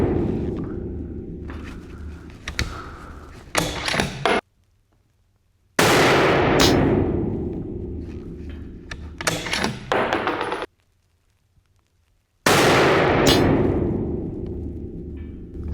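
Three loud rifle shots from a custom-built rifle at an outdoor range, several seconds apart, each a sharp blast with a long rolling echo, separated by near-silent gaps.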